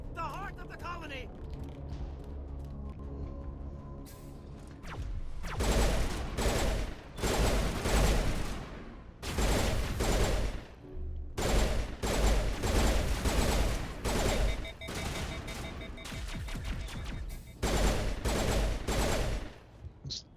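Rapid pistol gunfire in the Mass Effect game, loud bursts of repeated shots firing in clusters over the second half after a quieter opening, with game sounds and a voice in the background.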